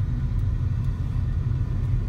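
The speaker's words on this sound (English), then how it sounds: "What is this traffic?" Steady low rumble of road traffic, cars idling and moving close by, a continuous dense drone heard from inside a vehicle stuck in traffic.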